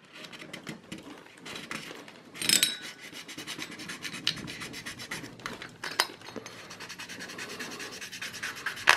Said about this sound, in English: either you can use a credit card, debit card, and just scrape it off like this